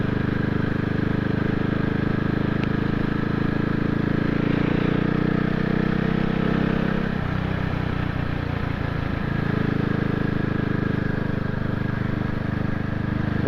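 A CCM Spitfire motorcycle engine drones steadily while being ridden, with a continuous low rumble and wind rush that holds at an even level throughout, with a slight dip in throttle midway.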